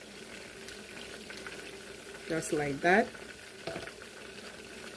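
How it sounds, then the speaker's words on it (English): Constant sizzling and crackling of tilapia fish frying in a pan, with a person briefly speaking over it. "while the fish is frying"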